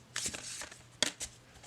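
Overhand shuffling of a stiff tarot deck whose card edges have been trimmed, heard as a few quick, close papery riffles and slaps in a quiet room.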